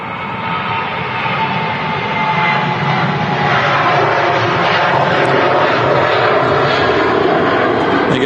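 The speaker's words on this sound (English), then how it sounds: "There goes Pegasus 737 800. Departing there." A Pegasus Boeing 737-800 departs Manchester Airport, its loud jet roar sustained and slowly building as the airliner climbs away.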